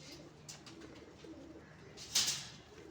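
A pet female pigeon, worn out after a long flight in humid weather, gives a short coo, with a brief louder burst of calls near the end over steady low background noise.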